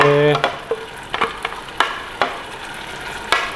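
Blended spice paste for beef rawon sizzles as it is stir-fried in a pan, with a steady frying hiss and repeated scraping stirs of the spatula, close and loud, without talking.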